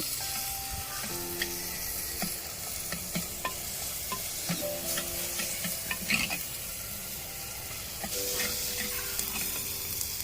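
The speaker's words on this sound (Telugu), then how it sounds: "టమాటాలు అయితే ఫ్రై అయిపోయాయి" Chopped tomatoes fry steadily in a pan for village-style chicken curry, a continuous soft sizzle with scattered stirring clicks and scrapes, fairly quiet and close, no speech.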